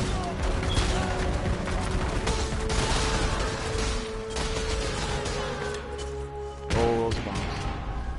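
Bombs bursting in rapid, overlapping bangs during a Path of Exile end-game map boss fight, dense and loud throughout with a heavier blast near the end, under game music and effects.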